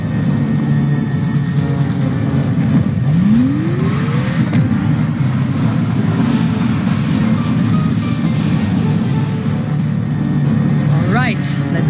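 A car engine in the video game Reverse 1999 revs up and accelerates loudly, with a rising whine sweeping upward over a steady engine drone, close and continuous, with a voice speaking alongside.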